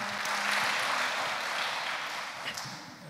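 A church audience gives a round of applause, a broad, fairly close wash of clapping that is strongest early and gradually thins out, with a few sharper taps near the end.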